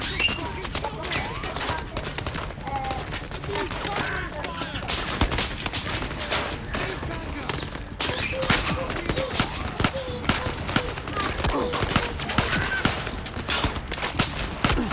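Rapid gunfire from firearms in the VR shooter Zero Caliber crackles in dense, continuous bursts for the whole stretch, loud and close, with occasional heavier impacts mixed in.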